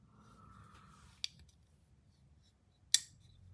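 Two sharp, close metallic clicks from Tuya folding knives snapping open and shut, one at about a third of the way in and a louder one near the end, separated by quiet handling noise.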